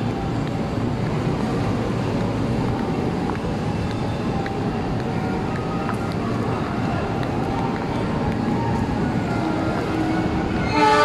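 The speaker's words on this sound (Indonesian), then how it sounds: "Aku naik kereta." A train rumbles along steadily nearby, a constant heavy roll of wheels on track with a brief rising horn-like tone near the end.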